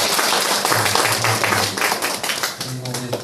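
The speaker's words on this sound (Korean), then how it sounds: "우리 뜨거운 박수로 환영해 주시면 감사하겠습니다." An audience in a Korean church service claps warmly to welcome guests, a dense burst of applause that continues throughout and gradually thins toward the end.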